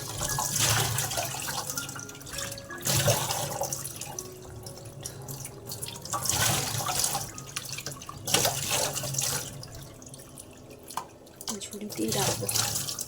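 Running tap water splashes over mangoes as they are rinsed, a steady close wash with drips and surges, while a voice talks intermittently over it.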